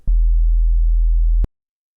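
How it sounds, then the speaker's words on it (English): A low sub-bass sine wave, originally stereo with a Haas delay and collapsed to mono, sounds as a single steady pure hum for about one and a half seconds, starting and stopping with soft clicks. "it's just a sine wave"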